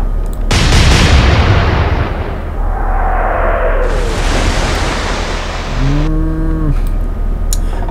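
A naval gun fires in the video game Atlantic Fleet: one heavy, loud boom just after the start, rolling into a long rumbling tail, with a low, tonal horn-like groan near the end.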